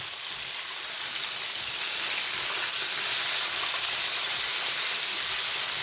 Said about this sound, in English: Let's flip our chicken wings over.